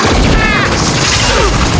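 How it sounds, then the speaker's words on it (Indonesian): An explosion in the racing video game Rebel Riders: a loud, dense, continuous roar of booming crashes and burst noise that fills the whole stretch without a pause. "Oh, gila meledak."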